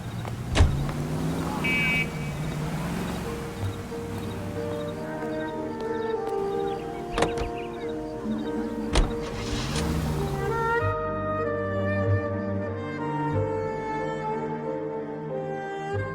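A car driving in the L.A. Noire video game, a steady engine hum with a shifting tone and a few sharp knocks, continuing under a changing background tone toward the end.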